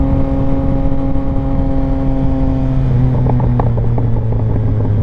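A Yamaha XSR900 motorcycle engine drones loudly and steadily, then its exhaust breaks into a string of crackling pops as the throttle eases off.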